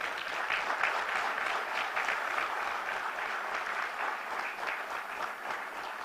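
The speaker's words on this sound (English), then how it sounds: "have a huge round of applause for all of them." Graduates at a university convocation applaud their parents and families, a steady, full round of clapping from a large crowd lasting several seconds without pause.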